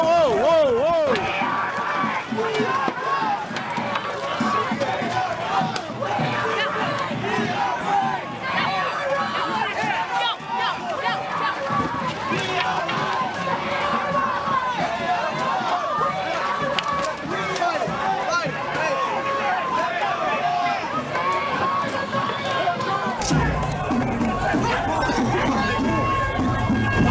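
A crowd of protesters scatters through a park as police in helmets and shields move in to disperse them, with shouting, excited voices and hurried footsteps running close by throughout.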